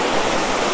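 Waterfall water rushing hard at Kondhana caves near Karjat, a steady, loud, close broadband roar with no pauses or voices.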